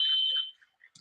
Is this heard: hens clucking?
no